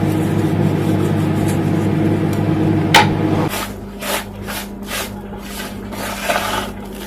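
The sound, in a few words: handling dried orange peel zest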